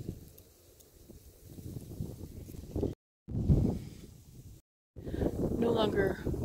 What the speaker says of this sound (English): It's supposed to help stop the wind, and it is really windy.